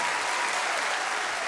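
A Grand Ole Opry audience applauds in a dense, steady wash of clapping that fills the hall, loud and unbroken throughout.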